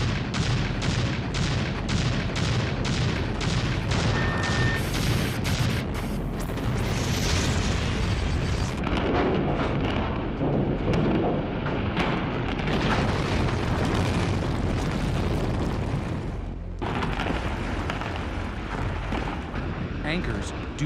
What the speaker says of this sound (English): Columns on the east end of the garage detonate first. Explosives in the upper levels go off.